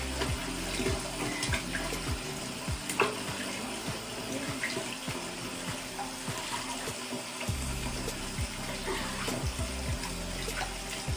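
Tap water runs steadily into a sink during a face wash in a skincare routine, a continuous splashing stream with small spikes and no one talking.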